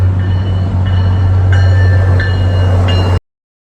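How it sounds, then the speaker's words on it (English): A train rolls past nearby on a rainy night, a loud steady low rumble with faint high metallic squeals from the wheels rising and fading over a few seconds. "Here comes a train"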